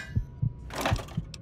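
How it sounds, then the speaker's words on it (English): Heartbeat in the video game Fallout 3, a steady low thumping pulse of about four beats, close and fairly loud, with a brief rushing noise swelling in the middle. "I can hear my heart beating."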